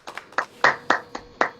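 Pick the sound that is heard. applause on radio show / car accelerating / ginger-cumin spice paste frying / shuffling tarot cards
applause on radio show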